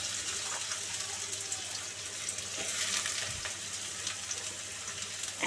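Chopped garlic and thin-sliced potato frying in oil, a quiet steady sizzle with occasional stirring scrapes and soft bubbling, close and fairly faint, without talk.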